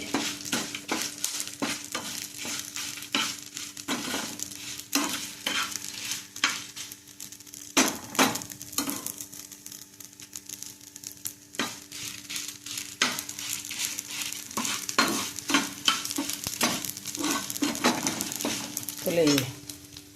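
Ingredients sizzle in a pan for Tulu-style uppudose while a utensil stirs and scrapes them in quick, irregular strokes, a close continuous frying hiss broken by frequent clacks against the pan.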